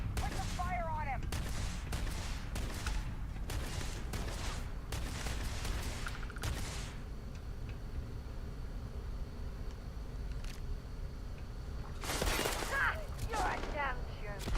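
Gunfire in the video game Starfield, several bursts of rapid shots in the first seconds and again near the end, with quieter stretches between, in a busy mixed game soundscape.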